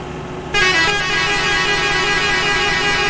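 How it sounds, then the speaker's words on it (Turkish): Loud truck horn honking in Euro Truck Simulator 2 while driving a Ford Cargo 2520, starting abruptly after a quiet half second and then blaring steadily with a rich, sustained tone. "Şu an ortalığı yıktım kornayla abi."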